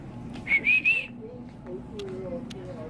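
A person whistles three short rising notes in quick succession, close and clear, inside a Target store with faint background murmur and store ambience after.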